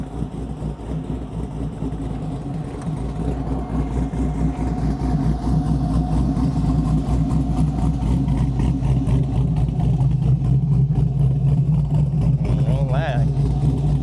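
A 1970 Oldsmobile's engine runs steadily throughout, a continuous low idle rumble with a slight rev swell near the end, while voices talk and exclaim over it.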